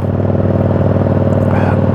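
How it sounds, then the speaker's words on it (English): A Yamaha V Star cruiser motorcycle with a loud aftermarket exhaust pipe idles close by, a deep, steady throbbing rumble with a regular pulsing beat. "That pipe's just a wee bit too loud for me, I think."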